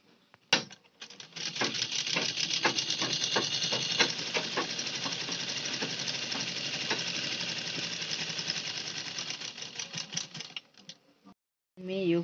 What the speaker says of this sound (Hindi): ऐसे में पलट कर ऊपर से सिलाई लगाऊंगी।